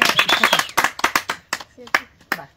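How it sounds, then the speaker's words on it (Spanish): A small group claps their hands in applause, giving a string of sharp, uneven claps that rise and fade over a couple of seconds, with voices mixed in. "Así que aplausos también para..."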